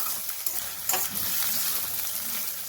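Crushed ginger and garlic, pounded in a stone mortar, fry in a pan for a methi chicken curry, giving a steady close sizzle with a few brief stirring scrapes and no talking.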